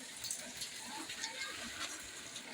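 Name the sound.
rain falling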